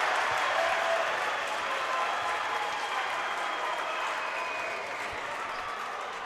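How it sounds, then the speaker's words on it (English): Loud, sustained crowd applause fills the stands at a high school basketball tournament game, a dense wash of clapping and cheering that carries steadily and eases slightly toward the end, with faint voices mixed in. "Loud applause on that one."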